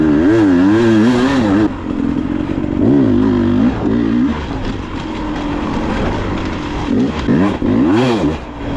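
A dirt bike engine revs hard through rising and falling throttle sweeps on a wooded enduro trail, loud and close, with a low rumble between bursts and no talking.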